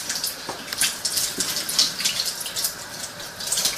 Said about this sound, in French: tu peux rincer à l'eau l'intérieur pour enlever bien toutes les petites graines et tout